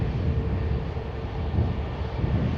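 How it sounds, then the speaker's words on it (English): An EasyJet airliner arriving at Manchester Airport gives a steady, continuous low engine rumble with broadband roar, moderately loud and unbroken throughout, with no talk over it. "Here's the EasyJet having just arrived"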